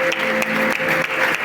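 A church congregation claps during a worship service, a brief, close burst of applause over a sustained tone and faint background voices.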